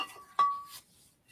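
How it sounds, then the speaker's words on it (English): A small shot glass gives a single bright clink with a short ringing tail during the measuring of liqueur for a frozen drink, close and alone in a quiet room. "for my measuring instrument, I used this nice little shot glass we got here"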